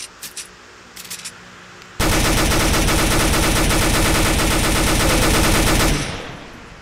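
Pistol gunfire in a zombie video game starts after a few faint clicks and then rattles in a loud, rapid, continuous burst for about four seconds before stopping abruptly and fading out.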